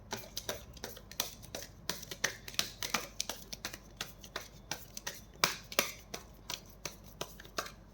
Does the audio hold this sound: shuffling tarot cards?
yes